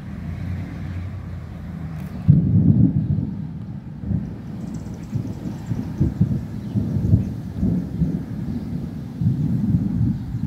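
Thunder from a thunderstorm rolls as a continuous low rumble that swells and fades over several seconds and never quite stops, heard from a distance with no voices.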